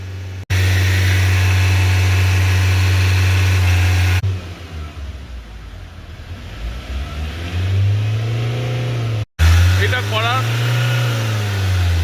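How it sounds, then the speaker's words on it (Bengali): A Ford Endeavour SUV diesel engine with an injector problem idles with a deep, steady drone, cutting out briefly and resuming, its note wavering slightly; faint mechanical chatter sits on top. "গাড়ির ইঞ্জিনের সাউন্ড একদম পারফেক্ট হয়ে যাবে"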